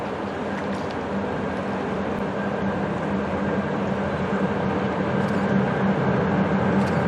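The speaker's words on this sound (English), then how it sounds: "This next clip shows the train as it crosses the North Fork Holtzen River Bridge" CSX Santa Train, led by an F40PH, crossing the North Fork Holston River Bridge four miles west of Kingsport, Tennessee, a steady loud rumble of rolling cars throughout with no talk.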